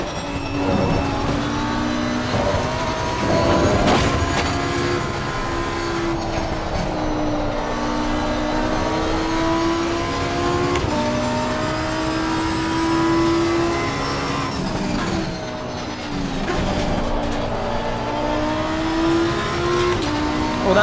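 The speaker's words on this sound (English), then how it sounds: "that Ferrari's gaining on us." Ferrari race car engine in the Assetto Corsa Competizione racing game, loud and continuous, with revs rising and falling through gear shifts and other cars audible around it.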